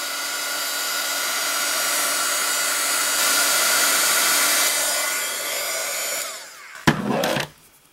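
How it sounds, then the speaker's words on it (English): A heat gun blows a steady, even roar across a glue art canvas for several seconds, then cuts off with a short clatter and a brief burst before falling quiet. "Now I'm going to hit it for a minute with the heat gun."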